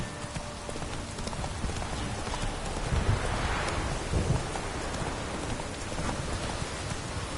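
A horse gallops in The Witcher 3 video game, its rapid hoofbeats drumming steadily over a wash of rain and rumbling storm noise, briefly swelling louder midway.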